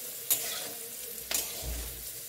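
Capsicum and peas fry in a wok for vegetable fried rice, a continuous close sizzle broken by two quick scraping stirs.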